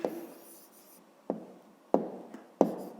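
A pen scratching on paper while a math answer is written down, showing a few short separate strokes with pauses between them, quiet and close, with no talk.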